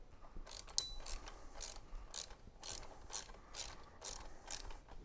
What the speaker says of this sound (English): with your 8mm, start tightening it together.